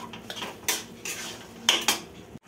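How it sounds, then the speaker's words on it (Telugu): Mango jam with jaggery stirred in a pot, a spoon clinking and scraping against the metal in several sharp strokes over a quiet background. "ఇలా కలుపుతూ ఉండాలి అడుగంటకుండా"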